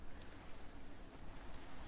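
Rain falling in a Lord of the Rings video game, a steady, even hiss of drops across the whole short stretch at moderate level, with no voices.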